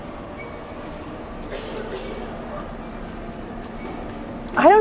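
Sydney commuter train in New South Wales, heard as a steady rumbling ride with a sustained low hum, then a sharp, loud metallic wheel squeal rising near the end.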